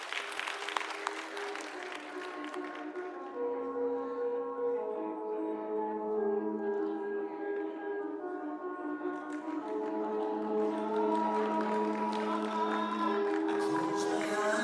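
Pageant audience applauding at a coronation night in a crowded hall, steady clapping with scattered cheers that carries on under a swelling song with sustained musical tones.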